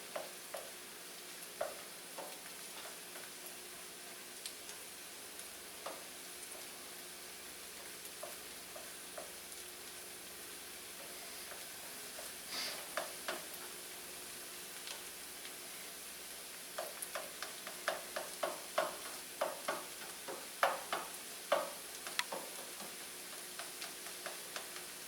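Fried rice with pork and egg sizzles in a pan with a steady low crackle, joined by scattered clicks and scrapes of stirring that grow busier toward the end; no one speaks.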